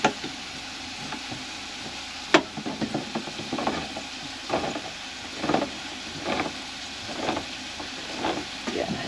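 A meal is stirred in a pot on a motorhome stove, with repeated soft scrapes and clinks of a utensil every second or so over a low background sizzle.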